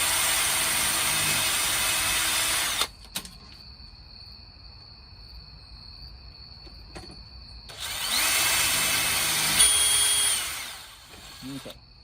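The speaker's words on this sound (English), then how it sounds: "we're going to take the bigger drill bits and then go through each hole" A power drill boring holes in a storm door whirs loudly for about three seconds, stops, then runs again in a second long burst; quiet room noise fills the pause.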